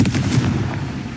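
A Confringo explosive spell going off in Hogwarts Legacy, a short, loud, booming blast with rapid popping crackle, close and dense for just over a second.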